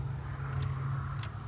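A John Deere 345 lawn mower engine idles at low throttle, a steady, close, continuous drone with a strong low hum that holds even throughout.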